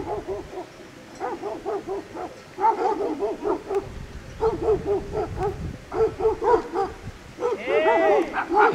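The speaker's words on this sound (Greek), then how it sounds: "Άκου τα τζουπανόσκυλα, τα τζουπανόσκυλα." Shepherd dogs near grazing cows and goats bark in repeated bursts, moderately distant and fairly faint, with several dogs overlapping in an irregular rhythm.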